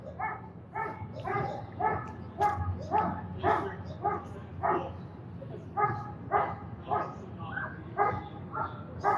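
Police dogs at a downtown Vancouver standoff bark repeatedly in a steady, rhythmic series of sharp barks and yips, moderately near, with people talking in the background.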